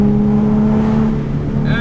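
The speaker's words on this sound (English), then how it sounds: "I'm now gonna use my engine to brake instead of using my brake pads" A Nissan 370Z engine braking on a canyon road, a steady loud droning engine hum with a sustained low tone that holds evenly and shifts slightly near the end, heard from inside the car.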